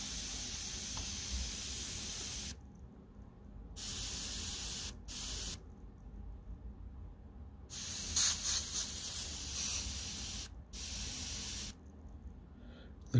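Badger Sotar 2020 airbrush spraying in loud, steady hissing bursts of a few seconds each, separated by short silent pauses, close to the microphone.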